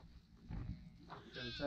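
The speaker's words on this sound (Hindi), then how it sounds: "और ये एक बकरी भी इधर घूम रही है बकरी बकरा भी।" A goat wandering near camels in a Saudi desert gives a faint, brief bleat, with quiet low rumble underneath.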